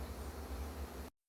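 Honeybees hum in a dense, steady buzz around a laying queen held in a plastic queen cage inside the colony, close and continuous before cutting off abruptly.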